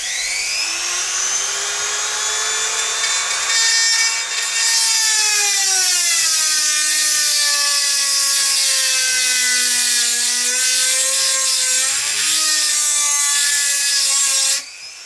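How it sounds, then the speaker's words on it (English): A hand drill bores out and enlarges a hole in a Quad 33 preamplifier, giving a loud, continuous high grinding whine whose pitch slowly sags and wavers under load for about fourteen seconds before stopping abruptly. "I dare say there's a tool in there to do this, but I just find it easier to just use the drill"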